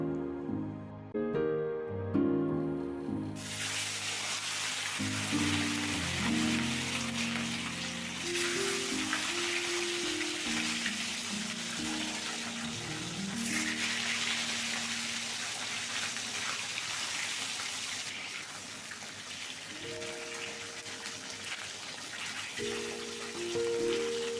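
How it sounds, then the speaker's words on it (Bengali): Rohu fish pieces frying one by one in mustard oil in a wok make a steady, rain-like hiss that starts after a few seconds and continues under background music. "এবার আমি এক এক করে মাছগুলো প্রথমে ভেজে নেব।"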